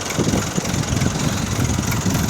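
A tractor engine idles nearby with a steady, rough low rumble and chugging texture, continuous and fairly loud throughout.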